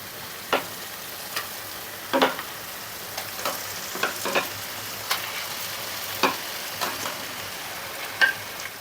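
Marinated chicken frying in a pan for a Bengali chicken curry, a low steady sizzle broken by repeated spatula stirs and scrapes at an uneven rhythm, moderately close.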